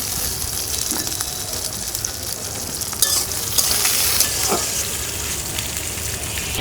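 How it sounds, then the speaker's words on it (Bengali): Chopped green chilies fry in soybean oil in a wok, giving a steady close sizzle with bursts of louder crackle and spatter as they are stirred, with no voices. "রান্নার তেল দিয়ে দিলাম সয়াবিন তেল দিলাম কাঁচামরিচ কুচি"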